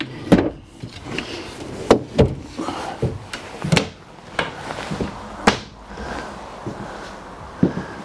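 A drawer in the kitchen of a 2019 Coachmen Chaparral 27 RKS fifth-wheel RV opens and shuts several times, giving close, sharp wooden knocks and brief sliding rubs in an uneven rhythm.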